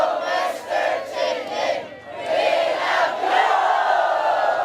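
A crowd of people cheering and shouting together in surges, loud and close, rising and dipping twice before swelling again, with no talk over it.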